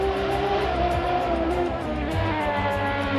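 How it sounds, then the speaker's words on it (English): Radical race cars scream around Dover Raceway in the Caribbean Motor Racing Championship, a loud continuous high-revving engine wail with shifting pitch and multiple cars layered close by. "Here the screaming Radicals."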